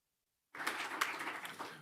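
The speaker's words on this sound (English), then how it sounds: "We can clap now." An audience at a school district board of trustees meeting breaks into applause after silence, a steady patter of many hands clapping, moderately distant and fairly soft.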